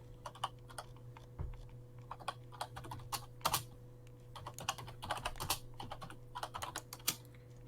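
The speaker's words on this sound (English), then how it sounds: "as he's typing, let's continue this conversation" Rapid, uneven clatter of a computer keyboard being typed on during a podcast recording, keystrokes close and crisp over a steady low electrical hum, with no voices.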